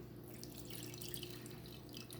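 Water pours steadily into a sourdough starter mixture of flour in a bowl, making a faint, continuous trickle heard up close with no one speaking.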